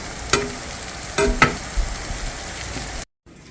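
Venison meat cooking in a pan gives a steady frying sizzle with a few sharp stirring scrapes and clatters, close and fairly loud, before cutting off abruptly at the end.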